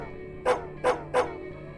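A dog in the video game Psychopomp GOLD barks three times in quick, evenly spaced, fairly loud barks over a low steady hum.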